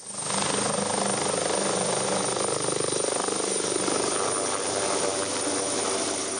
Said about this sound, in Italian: operativo l'elicottero dei vigili del fuoco del reparto volo di Venezia che ha sorvolato l'area delle colline di San Michele